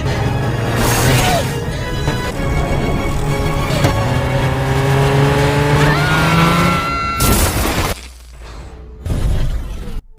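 A car roars off in the horror film Happy Death Day 2U, the engine loud and revving up through rising gear changes with some tire noise, then cutting off abruptly before a brief final burst.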